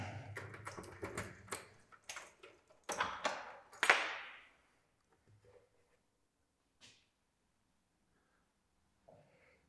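Keys unlocking and opening the door of an Italian property, a burst of close metallic jingling, clicks and knocks for about four seconds, then mostly quiet with a few faint taps.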